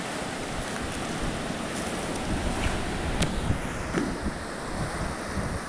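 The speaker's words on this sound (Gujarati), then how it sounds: "દરિયા કિનારે આજે દરિયાની ભરતી બહુ વધારે છે" Sea waves wash steadily onto the shore at high tide near Jafrabad, a constant broadband roar with gusty wind buffeting the microphone and no voices.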